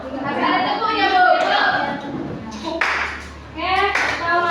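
A class of children clapping along with a teacher in a counted pattern, short bursts of sharp hand claps between spoken counting and chatter from the adult and kids.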